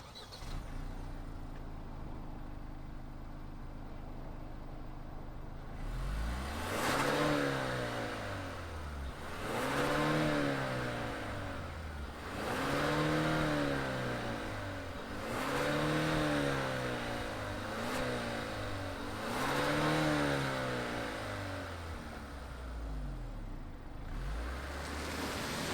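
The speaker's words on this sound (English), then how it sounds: "let's fire up this engine with more horsepower and hear what it sounds like." A 2022 Kia Stinger GT-Line sport sedan's engine starts up, then revs repeatedly in six or seven rising and falling sweeps, loud and close, with a steady idle between pulls and no talking.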